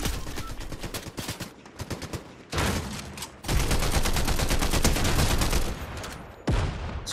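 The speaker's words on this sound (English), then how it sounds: "Oh shit, somebody shooting at me." Bursts of rapid gunfire in a video game, loud and close, crackling in dense volleys with brief pauses between, no talk over it.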